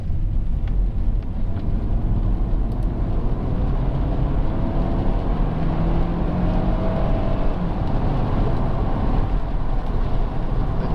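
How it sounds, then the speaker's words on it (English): A Honda Accord 2.4 i-VTEC Executive four-door runs steadily while driving, its engine a smooth, continuous low hum blended with road and wind noise, heard from inside the cabin with no talk. "But the engine just sings, it really sings."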